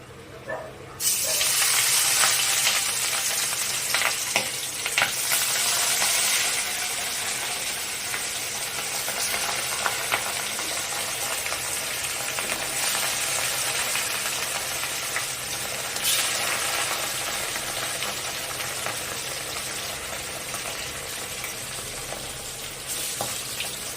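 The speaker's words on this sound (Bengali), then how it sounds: "তেলটা গরম হলে তারপর মাছগুলো ভাজা হবে" Pieces of catla fish fry in hot oil in a kadai, sizzling and crackling loudly and continuously, a dense frying hiss that holds steady throughout.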